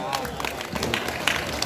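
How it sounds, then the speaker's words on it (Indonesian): Audience applause at an indoor property sales event in Bekasi, with steady clapping from a crowd mixed with a babble of voices, short and fairly loud. "Tepuk tangan dong semua."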